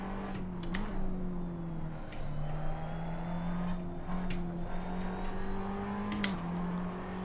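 Race car engine in the Assetto Corsa sim racing game, a steady droning tone that shifts pitch with brief dips between gears, moderate and continuous, with faint clicks on top.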